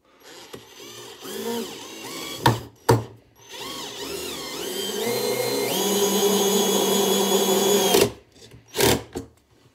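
A Parkside 12V cordless drill driver (PBSA 12 D4) runs at speed 1 while driving a screw, whirring in short bursts that rise in pitch into a sustained run of several seconds, then stops, close by with no talking.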